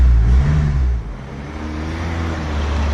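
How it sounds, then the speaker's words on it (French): Remapped car with its engine control unit refitted, driving on a short road test: a steady low engine drone and road rumble, louder at first then settling to an even hum, with no talk. "de redémarrer le véhicule et de faire un petit essai sur route"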